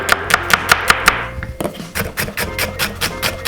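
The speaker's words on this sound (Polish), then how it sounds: "Cebulę siekam w drobną kostkę" A knife chopping onion into fine dice on a board, a steady run of sharp, evenly spaced taps that turns into quicker, lighter chopping, close and loud.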